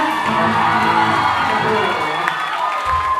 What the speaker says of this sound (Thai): ขอเสียงปรบมือให้นะ